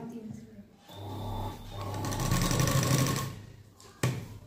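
A sewing machine stitches a prince cut blouse in a short whirring burst, joined by talking, with a sharp clack near the end.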